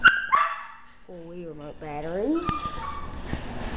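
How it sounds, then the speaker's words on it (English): A young dog barks a few short, yippy times indoors, sharp bursts mixed in with a person talking nearby. "That was my dog's bark."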